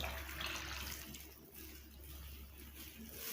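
Liquid fragrance or perfume is poured into a homemade liquid air freshener mix, a steady close splashing pour that runs for about three seconds with a brief dip midway.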